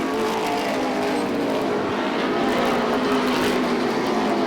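Modified race cars roar down the front straightaway of Beech Ridge Motor Speedway during a 25-lap run, a dense, loud, continuous engine drone with no gaps, with no voices over it.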